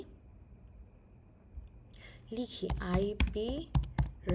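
Someone types a router configuration command on a computer keyboard during a networking lab, quick clicking keystrokes in the second half mixed with a person talking.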